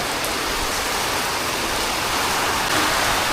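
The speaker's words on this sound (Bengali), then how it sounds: "মুসুল ধারে বৃষ্টি হচ্ছে অনেক বেশি বৃষ্টি হচ্ছে এখানে" Heavy rain in a Kalbaisakhi storm pours down as a steady, dense roar of broadband noise with no voices, even and unbroken throughout.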